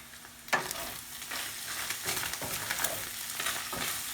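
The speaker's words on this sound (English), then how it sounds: "Mix it all up" A scramble seasoned with nutmeg and cinnamon is stirred in a sizzling frying pan, with steady frying hiss and a series of scraping strokes from about half a second onward, close and fairly loud, no voices.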